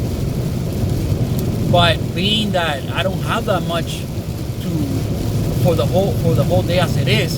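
Heavy rain pours steadily in Tampa Bay, Florida, a loud continuous wash of noise beneath someone talking throughout.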